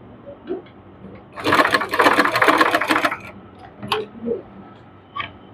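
A sewing machine stitches a strip of fabric in one fast, steady burst of about a second and a half, close and loud, followed by quieter clicks and handling noises as the thread is cut.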